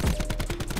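Rapid automatic gunfire from a video game shooter, a fast string of sharp bursts fired close and loud with no talking over it.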